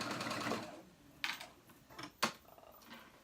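Sewing machine basting a long stitch on fly-front pants, heard as a soft motor whir followed by a few quiet, separate mechanical clicks and taps.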